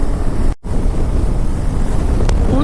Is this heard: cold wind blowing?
yes